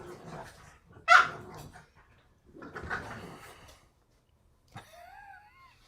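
Two dogs indoors in a house: one sharp, loud bark, then a few high, wavering whimpers near the end, with quieter rustling movement between.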